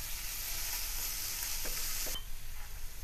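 Onion and chilies sautéing in hot oil with spices for a spicy black-eyed bean curry, a steady loud sizzle and hiss with a few stirring knocks, close by and with no talk.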